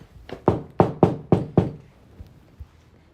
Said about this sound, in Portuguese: Logo ele bateu com força na porta da hospedaria.